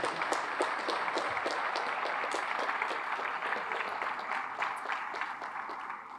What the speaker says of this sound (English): How about giving a round of applause to the wait staff that made sure everybody got a meal today?